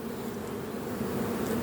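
Honeybees at a hive frame during beekeeping work, a steady, soft and continuous buzz heard close up with no talk over it.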